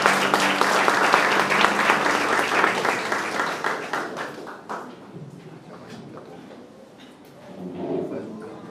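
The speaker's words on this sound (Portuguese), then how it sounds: "Vamos receber o pastor Derek com uma salva de palmas, como um gesto de carinho e simpatia." A church congregation breaks into loud applause that swells, then gradually fades to near quiet, with faint room murmur stirring at the end.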